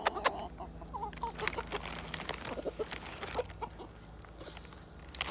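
Backyard hens cluck and chatter close by on cement, a busy run of short calls overlapping one another, with a few sharp higher squawks and no speech.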